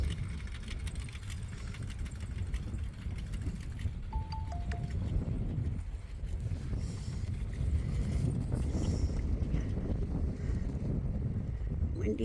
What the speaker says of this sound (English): Windy today, a little bit, just picking up.